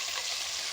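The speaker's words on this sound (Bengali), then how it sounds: "পুঁই শাকটা তেল আর পেঁয়াজের সাথে ভালো করে নেড়ে চেড়ে ভাজা ভাজা করে" Malabar spinach fries in oil with onion in a pan, a brief dense sizzle heard up close and alone.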